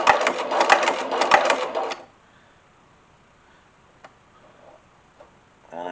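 A sewing machine stitches a leather drawstring pouch in a fast, even run of needle strokes that stops abruptly after about two seconds, followed by near silence with a couple of faint clicks and a brief restart at the end.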